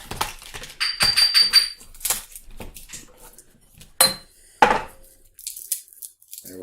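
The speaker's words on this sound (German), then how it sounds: "jetzt da wir den Knoblauch noch fein hacken" A knife finely chops garlic on a cutting board, producing sharp, close, irregular clacks in quick bursts separated by short pauses.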